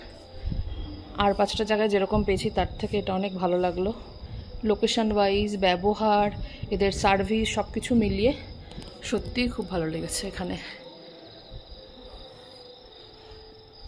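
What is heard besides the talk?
crickets chirping at night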